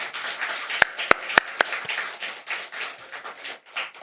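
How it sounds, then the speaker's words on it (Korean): A church congregation at a Christmas service claps for the choir after a cantata: four crisp, separate claps close together, then a soft, scattered patter under low room murmur. "우리 찬양대에게는 격려의 마음 담아 박수할까요?"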